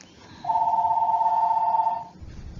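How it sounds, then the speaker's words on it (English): A telephone rings once with a sustained electronic tone lasting about a second and a half, loud and close, then stops into quiet room noise. "my phone rang"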